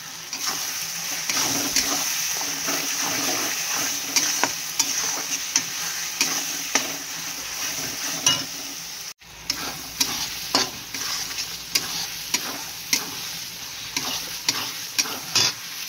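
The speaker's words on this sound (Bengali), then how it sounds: "মশলাটা কষিয়ে কষিয়ে তেল বেরিয়ে যাবে" Masala paste for mutton curry frying in oil in a pan, a steady close sizzle broken by repeated spatula scrapes and taps in an uneven stirring rhythm, with a brief drop near the middle.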